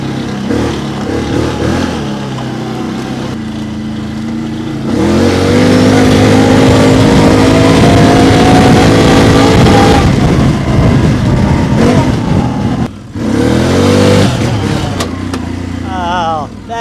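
A Can-Am Outlander 800 ATV that is losing power and barely runs drones loudly and steadily while being ridden over thinning snow and dirt, with the engine rising and falling through rough revving. Wind rushes across the microphone.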